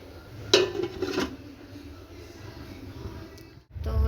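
A metal lid set onto a pot of simmering curry makes one clear ringing clank, then a softer rattle as it settles, followed by quiet kitchen background and light handling noise.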